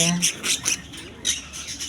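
Albino cockatiels at a bird shop in Kashinathpur market give a run of harsh, repeated squawks in bursts, close and fairly loud, with a few softer calls between.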